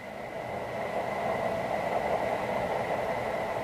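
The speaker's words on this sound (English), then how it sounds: "if I press Startup, the sound system in this engine starts up" An MTH model train locomotive's onboard sound system starting up, giving a steady, continuous engine hum with a sustained tonal drone that holds at an even level throughout, with no talk.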